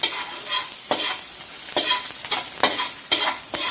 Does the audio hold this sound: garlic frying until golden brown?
yes